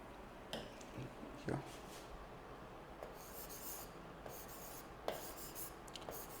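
Pen or chalk writing notes during a geography lesson: faint, scattered scratching strokes in short bursts over a quiet room, with no clear speech.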